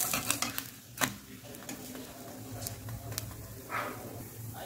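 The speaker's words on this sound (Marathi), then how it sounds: "पराठा आपण दोन्ही साईडनी छान असा भाजून घेऊया." A paratha roasting in ghee on a pan gives a soft, low sizzle, with a few utensil clicks and scrapes early on and faint background noise.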